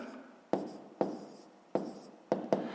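Numbers are written by hand with a pen for a fifth-grade maths exercise, with five quick, close scratching strokes spaced unevenly. Each stroke starts sharply and fades off, in a quiet room with no voices.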